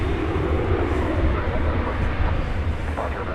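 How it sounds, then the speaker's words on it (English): An American Airlines Boeing 737-800 bound for San Antonio beginning its takeoff roll at DFW Airport, a steady, loud, broadband engine roar that holds level across the whole stretch. "American 2759 to San Antonio is beginning its takeoff roll"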